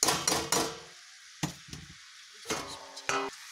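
A spoon stirring cabbage sabzi in a pan, with a few sharp scraping and clanking strokes spread apart and quiet pauses between them, close and moderately loud.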